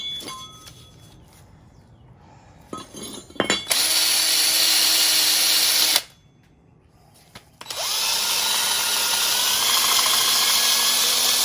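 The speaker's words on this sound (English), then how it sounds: "we're gonna clean this up some more with the wire brush" Wire brush on a power tool scouring a rusty, greasy VW bus front axle during restoration: two long, loud stretches of harsh grinding abrasion, broken by a quiet pause with brief handling noises.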